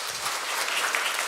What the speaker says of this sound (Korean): 인사하실 때 우리 박수로 격려해 주시면 좋겠습니다.